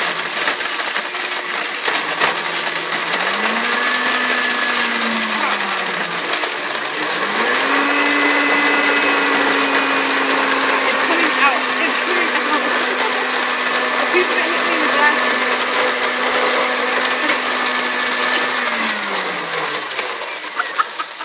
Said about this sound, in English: now you're going to come over here and stick it in the blender and put the blender cap on.